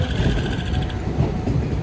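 A long passenger train rolls past at an Indian Railways station with a steady, dense low rumble and faint rhythmic wheel clatter, continuous and fairly close throughout.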